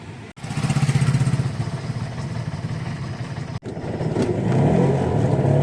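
An auto rickshaw engine runs steadily and loud up close as the vehicle drives through city streets in Pimpri-Chinchwad, with a brief dip near the start and again midway before the engine note rises.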